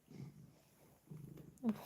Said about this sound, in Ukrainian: Ой, як він мурчить.